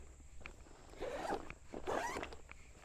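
The front zipper of a backpack being pulled open in two quick rasping strokes, close and fairly quiet, with faint ticks between them and no talking.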